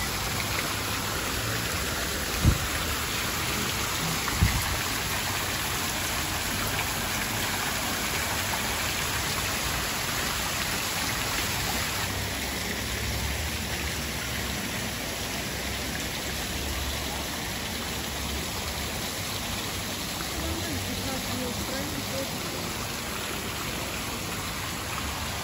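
Constant rushing splash of water from a large city fountain in Sochi, styled after old Roman fountains, a steady dense wash with a couple of faint knocks early on.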